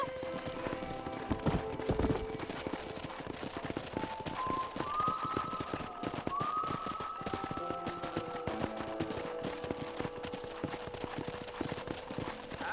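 Steady clip-clop of horse hooves at a brisk trot in the video game Red Dead Redemption, with a couple of short whinnies over a busy outdoor background.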